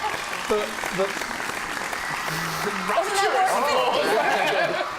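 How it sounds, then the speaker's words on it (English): Audience applause at a comedy quiz show recording, clapping and chatter with bits of laughter, and people talking over it. "Cut the applause."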